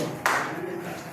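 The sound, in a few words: group power clap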